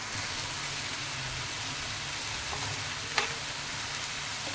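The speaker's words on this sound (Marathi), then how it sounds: "मटकी छान परतली" Moth beans fry with turmeric, chili and salt in a dry pan, giving a steady, close sizzle with a soft crackle, broken by one brief clink near the end.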